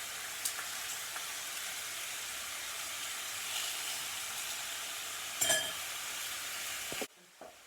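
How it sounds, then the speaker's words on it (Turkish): Chicken pieces sear in a hot pan, giving a steady, even sizzle and hiss throughout, with one brief louder crackle near the end before the sound cuts off. "Tavuğu attığımız gibi mühür tavası soğudu."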